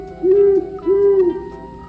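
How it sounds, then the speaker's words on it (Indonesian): Two clear, level owl hoots, each drawn out about a third of a second, with a short pause between them over a faint hum. "ini ada burung hantu."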